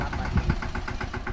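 A tractor engine idles on a farm in the Gir countryside, a steady, rhythmic low chugging close by that holds an even loudness throughout.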